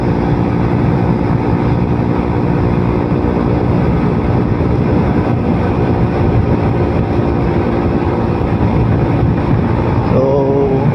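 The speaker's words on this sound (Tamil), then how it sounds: "எக்ஸாஸ்ட் பாட்டே கிளப்புதுங்க" Continuous exhaust drone of a TVS Apache RTR 160 motorcycle while riding, a loud, steady engine note mixed with buffeting wind rush, with a brief rising whine near the end.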